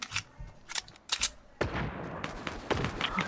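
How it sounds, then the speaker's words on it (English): Gunfire crackles through a video game match, first a few sharp isolated shots, then a dense rapid stream of automatic fire, loud and close. "I'm getting shot at."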